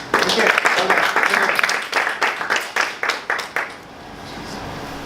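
A round of applause from the audience at a Toastmasters meeting, dense clapping that tapers into a few scattered claps and then quiet room tone.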